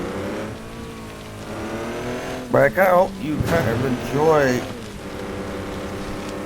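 A farm truck engine in a video game hums as a steady, mid-level drone throughout, with someone talking over it partway through.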